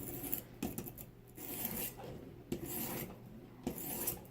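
A blade rubbed in long rasping strokes across a soft Arkansas natural sharpening stone, with about four broad strokes marked by sharp scraping onsets, close and fairly quiet, no talking.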